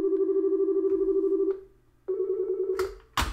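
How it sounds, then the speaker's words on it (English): A telephone rings loud and close in two long, warbling bursts separated by a brief gap, and the second ring is cut off by a sharp clatter. "There goes my phone."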